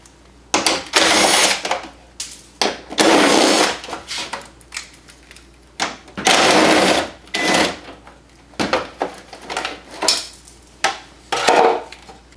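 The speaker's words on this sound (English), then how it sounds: "So we'll start off by pulling the bolts out of the oil tank cover." Power tool with a 10mm socket spins out bolts on the oil tank cover of a Yamaha YXZ1000R side-by-side, in repeated short bursts of whirring, each a second or so long, separated by pauses, close up.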